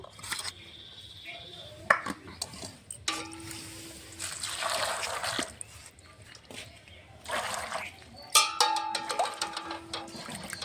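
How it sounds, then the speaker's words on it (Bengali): Shelled peas being washed by hand in a bowl of water, with splashing and trickling bursts alongside clinks of the vessel, close and clear, and short quiet gaps between handfuls. "দেখো, এখন আমি ভালো করে ধুয়ে নেব।"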